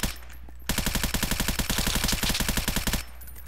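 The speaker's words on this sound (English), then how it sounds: "I was just shooting wildly" Loud, close burst of automatic gunfire in a shooting video game, a fast even rattle of rapid shots that lasts about two and a half seconds before stopping abruptly.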